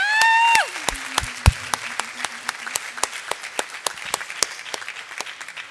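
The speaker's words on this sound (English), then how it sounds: "another big round of applause for our six finalists" Applause from a crowd at a wearables challenge event saluting six finalists: a loud cheer-like tone cuts off, then scattered, sharp individual claps carry on and thin out toward the end.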